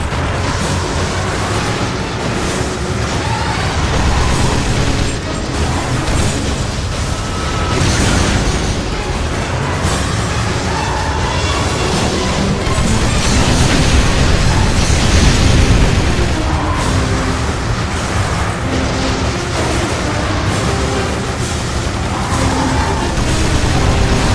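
Suburban houses blow apart in the Twisted Metal video game, a dense and continuous wall of loud booms and blasts over rumbling vehicle engines.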